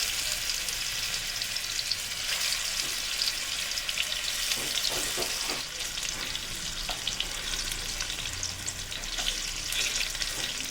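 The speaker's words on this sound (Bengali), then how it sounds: "তেল ভালো মতো গরম হয়ে গেছে। এবার অল্প অল্প করে দিয়ে ভেজে নেব।" Pointed gourd fries in hot mustard oil in a kadai with a steady, close crackling sizzle, broken now and then by soft scrapes and knocks of a stirring utensil. No one speaks.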